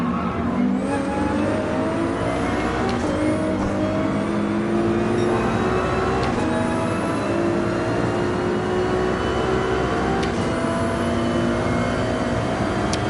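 Race car engine in the Gran Turismo 7 racing game, continuously revving and climbing through gears with repeated upshifts, loud and close for the whole stretch, with no talk over it.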